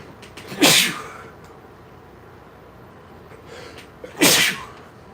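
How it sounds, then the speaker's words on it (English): Two sharp sneezes burst out a few seconds apart, each a loud abrupt blast from one person close by, with quiet room tone in between. "I'm going to sneeze off camera."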